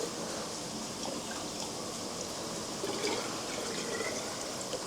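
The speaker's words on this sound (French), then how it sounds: "nazotia mwa mai na bouilloire." Water poured into a kettle while preparing a fish sauce, a steady splashing trickle that runs evenly throughout at low volume with no talking.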